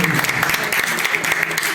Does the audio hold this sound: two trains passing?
no